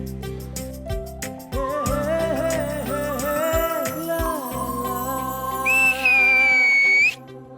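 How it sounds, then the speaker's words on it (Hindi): A person whistles in a Hindi sitcom scene. A sustained high whistle rises and holds for about a second near the end, after a busy stretch of background music and clatter. "सीटी क्यों मारी?"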